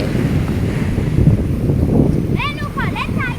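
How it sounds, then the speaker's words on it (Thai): Strong sea waves surge and crash along a shore under steady gusting wind, a continuous loud roar of surf and wind noise filling the scene, with a few brief high chirping sounds near the end. "ไม่กล้านั่งใกล้ทะเล ดูคลื่นนะ ทุกคน น่ากลัวมากเลยนะคะ"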